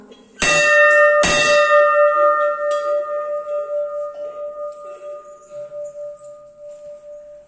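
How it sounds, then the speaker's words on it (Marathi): A temple bell at the Ghoravadeshwar hilltop Shiva temple is struck twice in quick succession, then its bright metallic tone rings on, slowly fading with a gentle pulsing hum. "घंटानाद"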